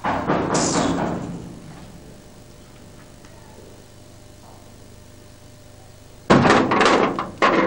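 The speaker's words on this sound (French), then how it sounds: "va ouvrir la porte" A door is opened in a home: a loud thudding burst at the start, then a long stretch of quiet room tone, then another loud burst of noise near the end.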